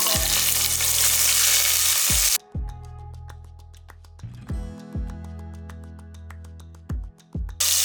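Garlic, ginger and shallots frying in oil in a pan: a loud, hissing sizzle that suddenly drops to a quieter, steady crackle, broken by several sharp clinks of a utensil against the pan.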